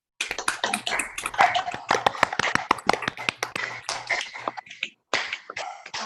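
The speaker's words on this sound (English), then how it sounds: "let's all have a round of applause for Vanu." A small audience claps after a piano performance at a virtual concert, with a few people producing scattered, crisp hand claps that bunch together and then thin out, with a short pause near the end.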